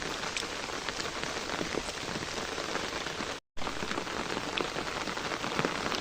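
Steady rain falls and patters densely on surfaces outdoors on a school day, a continuous hiss broken by one brief dropout, with no voices.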